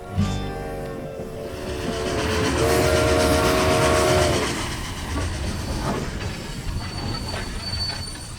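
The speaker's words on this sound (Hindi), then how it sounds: "अब तो ट्रेन भी रुक गई" A train braking to a stop, loud wheel squeal and whistle-like screeching over rumbling carriages that fades into lower clatter as it slows.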